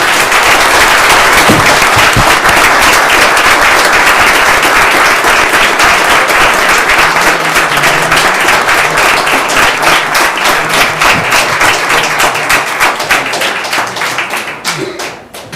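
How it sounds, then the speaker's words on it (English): Loud, sustained applause fills a town council meeting room in honor of police officers, dense clapping continuing for a long stretch with some voices mixed in before it tapers off at the end. "Can we please give these officers a round of applause for the job well done?"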